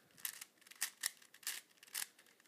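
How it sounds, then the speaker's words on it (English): A V-cube 6x6x6 puzzle cube clicks as its layers are turned, giving about six sharp, close snapping bursts spaced irregularly with quiet gaps between them. "You hear the clicking sound?"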